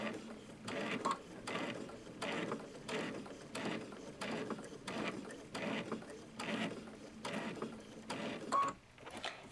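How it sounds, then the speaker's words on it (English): A Babylock Solaris 2 sewing machine keeps stitching with a soft, rhythmic mechanical clatter, its regular pulses repeating steadily at low level throughout, with no voices. "And I'm going to keep stitching."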